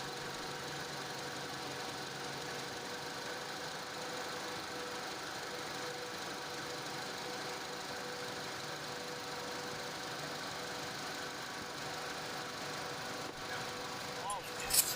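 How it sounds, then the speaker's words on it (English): Honda Accord engine idling during a power steering restoration, a steady even engine hum with a slight knocking texture, close and continuous, ending with a small clatter. "Then the next is to dive in by starting the vehicle."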